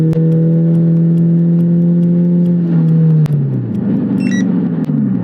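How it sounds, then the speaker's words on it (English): A Chrysler PT Cruiser engine accelerates hard without nitrous, a loud, steady droning pull that rises, then drops as it shifts, heard from inside the car. "So we just did our first pass with no nitrous, and big surprise, PT Cruiser's pretty dang slow."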